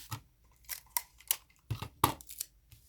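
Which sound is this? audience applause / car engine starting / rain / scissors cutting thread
scissors cutting thread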